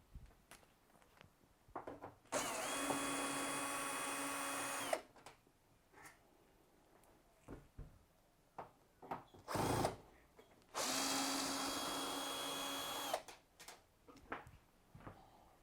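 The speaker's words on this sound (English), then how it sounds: "Remove these two Torx bits." A power driver backs out Torx screws from the front panel of a Bosch washing machine: two separate whirring bursts of a few seconds each, close up, with handling clicks and knocks between them.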